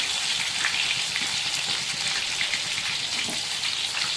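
Large pieces of fish fry in hot oil with a dense, steady sizzle and crackle, close and continuous, with no voices.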